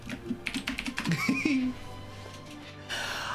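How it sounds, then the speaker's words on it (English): Rapid keystrokes on a computer keyboard during a Honkai: Star Rail stream, clattering fairly softly beneath tonal game music and a brief hum. "Hold on, I'll type in chat."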